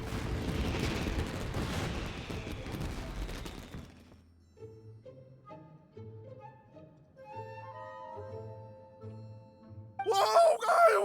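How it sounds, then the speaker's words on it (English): Fireworks explode in the video game Genshin Impact. A dense, crackling burst of explosions dies away into soft musical tones, and a fresh sharp burst cuts in at the end. "Yoimiya, this is turning into a bit of a fireworks display."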